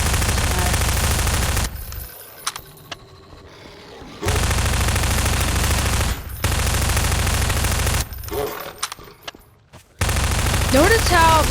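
SMG fire in Half-Life 2 running in Garry's Mod, long rapid automatic bursts separated by short pauses, loud and close, with a distant voice-like sound near the end.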